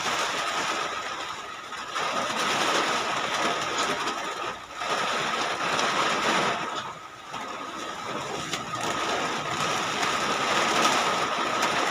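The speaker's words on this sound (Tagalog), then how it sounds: "Lakas ng ulan." Heavy rain pours in a dense, steady hiss that swells and dips slightly, with an underlying low rumble throughout.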